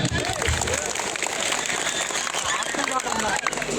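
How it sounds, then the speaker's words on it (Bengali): Dense clapping from a large crowd at a BNP political rally in Joypurhat, Bangladesh, fills the air steadily, with a voice and crowd noise heard through the applause. "তালি হয়নি, জোরে একটা তালি দেন"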